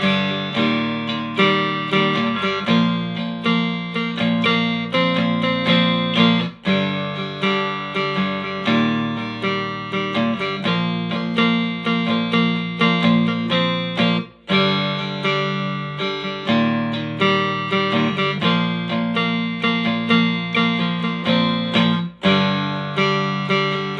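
A cigar box guitar strummed in a steady rhythmic tune, bright and full, with chords ringing continuously and a few brief breaks between phrases, no voice.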